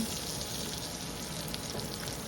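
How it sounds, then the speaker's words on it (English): Mushrooms sizzle steadily in hot oil in a stir-fry pan, a continuous close crackling hiss with no voices. "So we want that oil, that hot oil, just to coat all the mushrooms."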